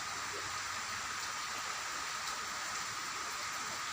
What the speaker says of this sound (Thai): ฟังเสียงฝนดูได้เลยครับ